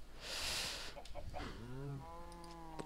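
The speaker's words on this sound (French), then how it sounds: "j'ai reproduit deux vaches encore, hein" Cows moo in a Minecraft-style video game: a breathy rustle first, then a couple of drawn-out, lowing moos rising and falling, fairly close and clear with no talk over them.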